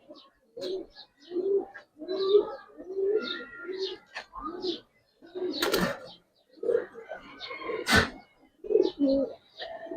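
Domestic Giribaz pigeons kept at home coo in close, repeated rolling phrases, several birds overlapping in a steady rhythm with short pauses and a couple of sharp clicks, no talking.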